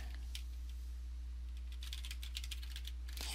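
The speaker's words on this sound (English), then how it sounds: "So I'm going to type in a database name" Fingers type on a computer keyboard in light, quick clusters of clicks over a faint steady hum, near and soft, growing busier toward the end.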